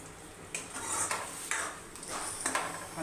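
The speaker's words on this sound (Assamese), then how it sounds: "ভালকৈ লৰাই লওঁ।" Food being stirred in a cooking pan makes faint, regular scraping sweeps of a utensil across the metal, about one every half second, under a low sizzle, with no talk.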